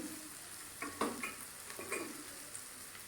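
Spices with a spoonful of cumin powder, whole chilies and salt fry faintly in a pan, a soft low sizzle broken by a few light spoon scrapes and stirs.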